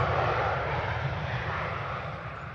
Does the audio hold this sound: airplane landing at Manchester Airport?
yes